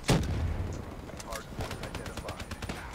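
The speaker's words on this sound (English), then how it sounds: "Oh, grenade." A grenade goes off in the shooter Call of Duty Black Ops 4 as one loud blast near the start, followed by scattered gunfire pops and game clatter, with voices talking over the action.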